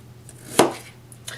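A knife chopping root vegetables on a cutting board into chunks for roasting, one sharp close thunk with a fainter knock afterward, no talk.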